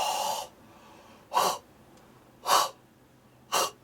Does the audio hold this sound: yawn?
yes